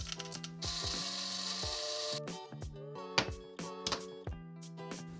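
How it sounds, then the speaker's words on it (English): Coffee beans ground in a grinder, with a rough mechanical whirring and rattling for about two seconds over steady background music, which continues after the grinding stops. "Let's grind up some coffee beans."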